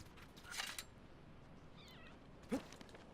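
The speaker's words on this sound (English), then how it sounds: "He was like a meow noise." A faint, brief meow-like creature call from a lizard in Shadow of the Colossus, heard once early and once more near the end over a quiet game ambience.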